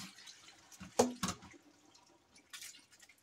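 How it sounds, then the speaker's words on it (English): Pickle brine is poured off cucumbers in colanders into a clean kitchen sink. It makes faint splashing and dripping with a couple of sharper knocks near the start, then scattered trickles. "you want to pour this brine off."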